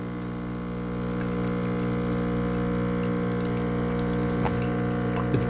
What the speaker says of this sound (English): Coffee is barely coming out of this thing.